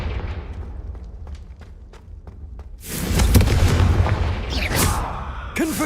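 A Confringo fire spell explodes in Hogwarts Legacy: quiet ambience with faint ticks, then a sudden loud, broad blast that roars on and crackles for several seconds, ending in a sharp, bright burst.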